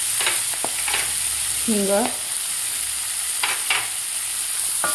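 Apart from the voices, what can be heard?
onion sautéing in oil with curry leaves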